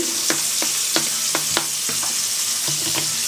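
Cauliflower and other vegetables fry in hot oil with a steady sizzle, broken by repeated knocks of a utensil stirring the pan.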